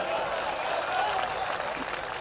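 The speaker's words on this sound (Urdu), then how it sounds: "اگر اچھا شعر لگ رہا ہے تو یار ایک بار تالیاں بجا دیں" Audience applause at an Urdu poetry recital, an international mushaira in Bhopal: steady, dense clapping that fills the whole moment at a fairly even loudness, with no voices standing out.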